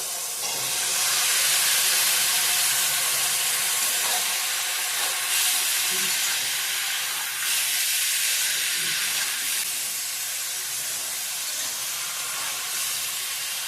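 Chopped bottle gourd hits hot oil tempering with onion, tomato and salt for a Bengali fish-head lau ghonto, giving a loud, sustained sizzling hiss that swells and eases slightly over many seconds.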